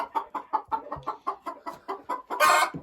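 A Marans laying hen clucks in a steady run of about a dozen short, close calls, ending in a louder, harsher squawk.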